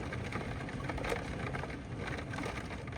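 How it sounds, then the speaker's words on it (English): Torrential rain pours down outdoors during a heavy downpour, a steady broadband hiss of water that holds at an even level throughout, with no talk. "We have torrential downpour at the moment."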